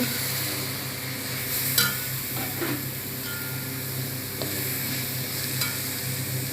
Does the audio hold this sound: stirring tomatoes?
yes